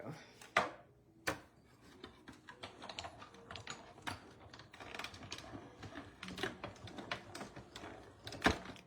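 Paper craft die-cutting machine cranking a sheet through, a rapid series of close, sharp clicking and ratcheting taps in an uneven rhythm, fairly quiet with no talk.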